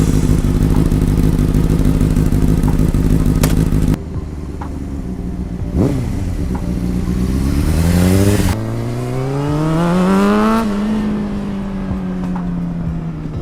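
A motorcycle engine revs hard and loud up close, pitch climbing and falling through several swells, then settles into a rough steady drone with no talking.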